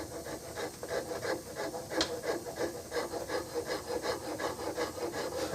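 A file rasping across wood while shaping a custom Remington 788 gun stock, with rapid steady back-and-forth strokes, close and fairly quiet, no talking.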